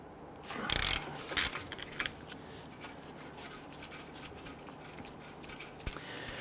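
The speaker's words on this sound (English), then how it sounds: "I'm going to loosen and remove the lower bolt first." A wrench loosens a 22mm caliper bracket bolt on a Nissan Quest front knuckle, giving a few sharp metallic clicks and scrapes spread out over quiet garage background.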